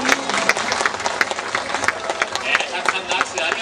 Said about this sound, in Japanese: たくさんの拍手ありがとうございます。